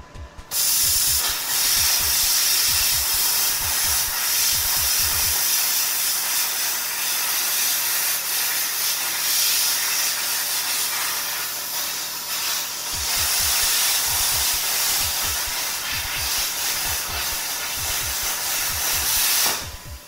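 A Daiden CUT 45 plasma cutter cuts through 20 mm steel with a loud, continuous roaring hiss that runs nearly unbroken for about twenty seconds, with rumbling bursts at the start and end and no speech.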